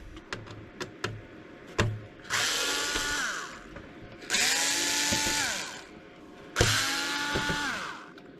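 A power screwdriver whirs in three separate bursts while undoing screws on the DVD drive of an Xbox Crystal console under repair, each run rising and falling in pitch, with sharp clicks and taps in between.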